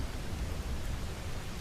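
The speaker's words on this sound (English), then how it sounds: "Listen to the sound of the rain and smell the greenery all around you." Steady soft rain falling on greenery outdoors, a continuous broadband hiss with a low rumble underneath, even and unbroken throughout.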